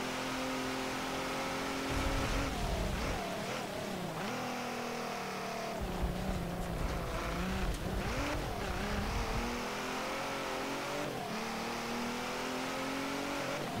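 In the video game Forza Motorsport 7, several racing cars roar and rev, engines rising and falling in pitch as they speed past, with occasional tire squeals, steady and fairly loud.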